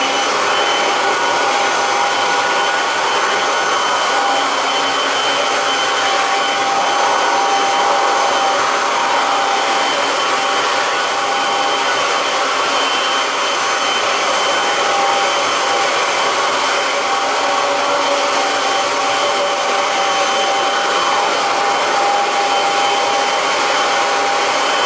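A Kirby Avalir vacuum cleaner runs continuously with a wall and ceiling attachment tool fitted, a loud, even motor whine and airflow rush that holds steady throughout with no voices.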